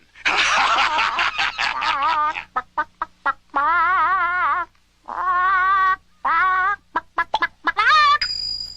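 A cartoon hen in a Jack and the Beanstalk story clucks and chortles in a run of bright, bouncy bursts and short stabs, loud and close with no other sound beneath.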